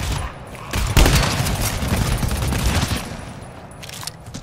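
DMR rifle firing in a shooter video game during a squad firefight, a loud rapid burst of shots with echoing booms that tapers into scattered fire, no talk.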